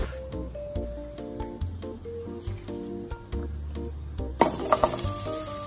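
Metal utensils clink and clatter against pots and dishes while pav bhaji is cooked in a home kitchen, with irregular taps and rattles throughout and a brighter burst of clanking near the end, no talking.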